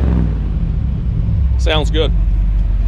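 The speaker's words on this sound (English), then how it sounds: "So go ahead and rev it up." A 1959 Chevy Brookwood engine runs with a steady, loud, low rumble close by. The note holds level throughout, and someone speaks briefly over it.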